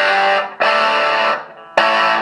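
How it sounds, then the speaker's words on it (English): An electric guitar on its bridge humbucker, played through an Orange Micro Crush amp with heavy distortion, rings out in three loud, sustained saturated chords separated by short breaks. "like distorted, too much distortion"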